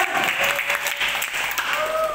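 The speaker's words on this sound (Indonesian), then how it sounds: "Tepuk tangan semuanya anak muda." Young people in a Sunday school gathering clapping together, a loud, dense burst of applause filling the room, with a faint tonal voice or sound rising briefly beneath the clapping.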